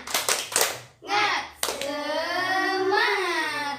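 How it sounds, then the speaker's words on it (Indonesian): Sixth-grade class doing a quick rhythmic spirit clap, a short burst of sharp claps at the start followed by voices chanting loudly together. "Ayo tepuk semangat dulu biar semangat."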